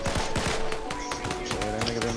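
Rapid gunfire crackling in a video game, quick bursts of shots at moderate distance over a busy game backdrop, lasting only a couple of seconds.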